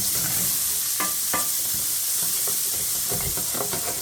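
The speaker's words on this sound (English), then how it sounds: "now we're going to cook these down until they're softened." Vegetables for Swiss steak sizzle loudly in a hot pan, with a constant hiss and frying crackle while a utensil scrapes and stirs them in several clattering strokes.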